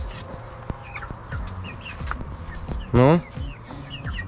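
Chickens cluck and chatter while eating oats on a farm, with a louder rooster-like call rising in the middle. A short spoken word is heard among the birds.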